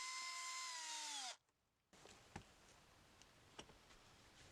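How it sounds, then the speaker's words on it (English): A small high-pitched drill whines loudly as it bores into a plastic Guyver unit casing, then winds down and stops abruptly, followed by a quiet room with a few faint clicks and taps. "Taking a small drill to the unit, I carefully drilled a couple of holes to feed the wires through."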